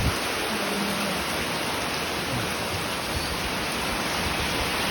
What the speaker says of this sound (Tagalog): patuloy pa rin ng ulan